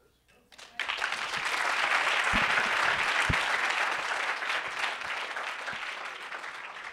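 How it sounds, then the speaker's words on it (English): Loud audience applause follows startup presentations at a Toronto startup weekend event, starting abruptly after a brief quiet moment and holding as a dense, sustained clapping with a few sharper claps standing out before easing slightly. "You should all give yourselves a massive round of applause."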